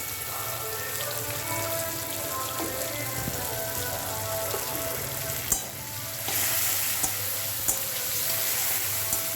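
Homemade noodles frying slowly in a pan, a loud, steady sizzle with crackling and a few clear stirring knocks, continuous and close with no talk.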